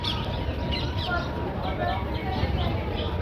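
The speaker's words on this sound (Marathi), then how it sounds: "किती बसलेत तिथे कबूतर" A crowd of pigeons perched together in Udaipur, lake city, gives soft, busy cooing and flutter-like chirps under steady outdoor background noise, close and continuous.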